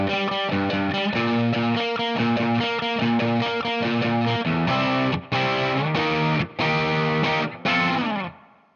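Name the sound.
electric guitar playing pre-chorus of a song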